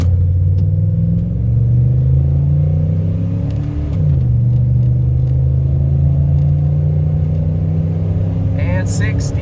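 A truck with an EFI 460 V8 accelerates hard from 0 to 60, heard from inside the cab. A deep, steady engine drone climbs in pitch, dips briefly at a gear shift, then pulls on, loud and unbroken.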